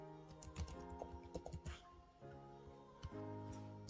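Keyboard typing as an email address and password are entered into a login form, a steady patter of small key clicks with a few sharper strikes, close and moderately loud, with no voices.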